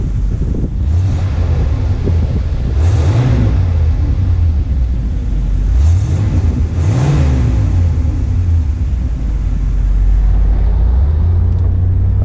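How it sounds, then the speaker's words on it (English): 1982 Camaro Z28 Indy 500 Pace Car engine revs up through its exhaust several times, loud and close, with repeated rising and falling swells over a constant idle rumble and wind buffeting. "I'll give you guys some exhaust sound clips"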